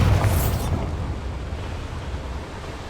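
A Bombarda blasting spell goes off in Hogwarts Legacy: a sharp, loud burst with a bright hiss at the start, then a deep rumbling boom that slowly fades over a few seconds.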